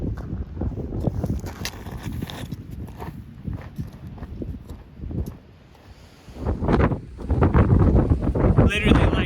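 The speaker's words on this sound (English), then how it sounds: "It's a little better today, still really windy though." Strong gusting wind on a hiking trail in the Guadalupe Mountains buffets the microphone with heavy low roaring, easing briefly midway before surging loud again, with faint footsteps beneath.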